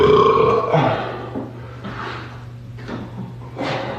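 One long, deep, gurgling burp rolls out loud and close for about a second, then trails off into quieter low grunting rumbles.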